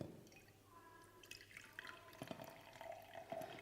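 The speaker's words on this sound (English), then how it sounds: "And there it goes, the water's going in" Water spilling over the lip of a full beaker into another during a buoyancy demonstration, faint trickling and dripping with small splashes, quiet and close, growing slightly busier toward the end.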